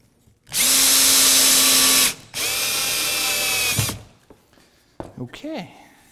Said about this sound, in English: Careful not to strip them with your power drill.